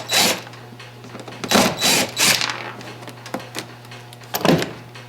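A cordless power driver removes the three screws of a front three-way fitting on a Hobie Pro Angler 12 kayak, whirring in several short separate bursts up close with brief pauses between them.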